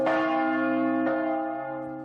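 A large church bell is struck twice, each deep, ringing strike followed by a long shimmering hum that slowly fades, clear and alone.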